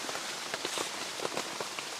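Rain falls steadily in a forest campsite, a dense even hiss with scattered closer drops pattering on surfaces throughout.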